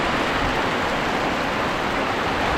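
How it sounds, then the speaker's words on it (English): Rain pouring down in West Sumatra, heard from shelter under a mosque roof: a loud, steady, dense hiss with no breaks, no drops standing out and no voices. "But now it's actually starting to rain."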